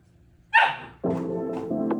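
A dog barks close by: one sharp bark, then a longer, lower woof, then another quick bark near the end, with quiet pauses between them.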